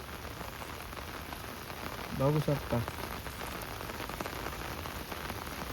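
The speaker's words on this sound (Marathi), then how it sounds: "कंटिन्यू पाऊस आहे" Steady rain falls continuously over flooded fields in a village, a dense, even hiss that fills the whole stretch, with a short burst of nearby speech partway through.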